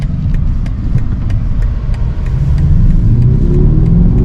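A 2023 BMW XM picks up speed on back roads with a light press of the gas, its engine a loud, deep, close hum that builds and rises in pitch toward the end, heard from inside the car.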